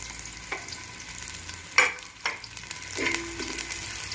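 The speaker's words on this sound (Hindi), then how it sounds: "उसके बाद हम इसमें प्याज डाल देते हैं।" Onions hitting a pan of hot oil and frying, a soft sizzle with a few sharp stirring clacks and scrapes, moderately quiet, no voices.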